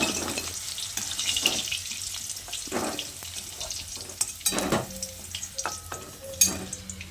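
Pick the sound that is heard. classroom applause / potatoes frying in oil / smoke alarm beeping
potatoes frying in oil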